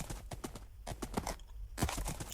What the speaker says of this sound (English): this is the fastest horse I ever see right now.